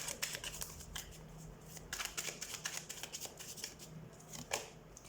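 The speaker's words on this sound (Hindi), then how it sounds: "एक मिनट, एक और कार्ड में निकाल लूँ।" Tarot cards are shuffled and drawn during a reading, a quiet, continuous flutter of riffling card edges with a few sharper slaps as cards are pulled, close and faint with no speech.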